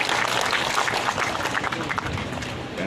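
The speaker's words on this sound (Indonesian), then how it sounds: "Letnan Jenderal Ida Bagus, tepuk tangan untuk beliau." Dense clapping from a crowd at an official event welcoming a governor fills the whole stretch, steady and fairly loud, with a faint murmur of voices mixed in.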